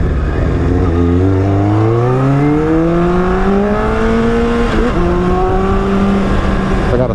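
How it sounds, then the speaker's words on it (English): A motorcycle engine with a small misfire revs and rises in pitch, loud and close, with a brief stumble in the steady drone partway through. "I got a small miss. You heard that small miss?"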